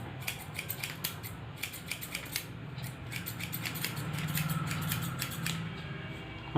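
Scissors snip steadily through hair during a step-by-step haircut, trimming lightly underneath; a rapid series of close, crisp metallic cuts with brief pauses between runs, clear against a quiet room.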